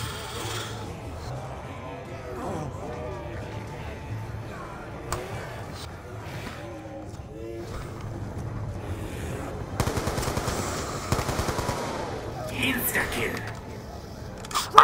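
Bursts of automatic gunfire in a zombies video game, with rapid rattling volleys in the second half, sit under ongoing talk and game sounds.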